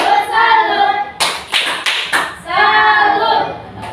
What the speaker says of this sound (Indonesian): kita beri tepuk apros yang terbaik buat teman kita dengan tepuk salut